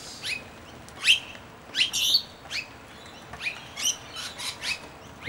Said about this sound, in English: rainbow lorikeets, the parrots are, and they're feeding with crested pigeons